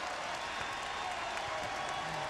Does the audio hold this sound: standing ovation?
yes